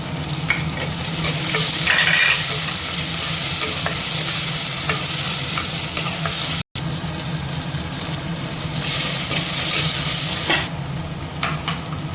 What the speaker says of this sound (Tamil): நம்ம தக்காளி சேர்த்துக்கலாம். நான் பார்த்திங்கன்னா 2 தக்காளி கட் பண்ணி சேர்த்துருக்கேன்.